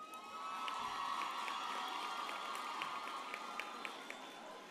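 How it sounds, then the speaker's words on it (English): Graduation ceremony crowd at a university management sciences faculty, a steady, broad wash of applause and cheering that holds for several seconds, with a few sharper whoops and claps standing out near the end. "A big round of applause."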